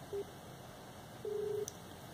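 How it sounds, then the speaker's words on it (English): A GSM module receives a call placed from a phone: two short faint electronic tones over a steady background hiss, the second one longer, followed by a tiny blip. "I will give a call from my phone to this module."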